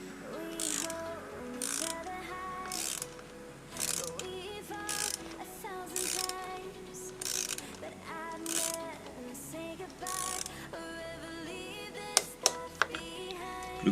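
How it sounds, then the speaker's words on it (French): A ratchet-style torque wrench clicks repeatedly as valve cover screws on a BMW 528i E39 are tightened. Close, crisp bursts of clicks come in short rounds separated by brief pauses, ending with a few sharp single clicks. "Le clic correspond au serrage, au coupe de serrage atteint."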